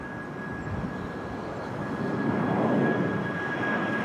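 A WestJet airliner lines up on runway 05 at Toronto Pearson airport, its engines giving a steady, broad roar that swells slightly partway through, heard from a distance with a faint constant tone above it.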